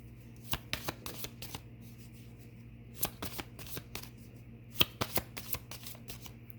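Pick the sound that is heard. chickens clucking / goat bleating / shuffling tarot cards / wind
shuffling tarot cards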